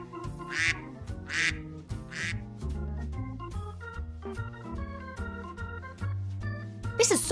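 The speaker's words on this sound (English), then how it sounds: "Danny Dog and I love feeding the ducks and watching them swim on the pond." Toy ducks at a pond play under cheerful background music, with three repeated bright quacks early on and a squawk at the end, fairly faint against the music.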